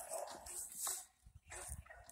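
A dog up for rehoming gives a couple of sharp barks and whimpers, nearby and fairly loud, with brief quiet gaps between the yelps.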